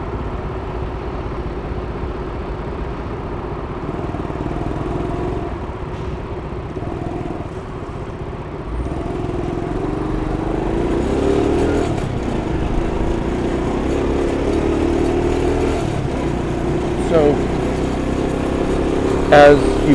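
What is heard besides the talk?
riding a scooter in New York City traffic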